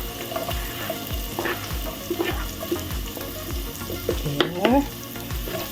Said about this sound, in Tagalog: At hintayin natin maging brown ang bawang at sibuyas